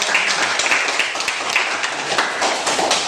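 Students in a chemistry classroom applaud together, a steady, fairly loud patter of many hands clapping close by, continuous for a few seconds with no talking.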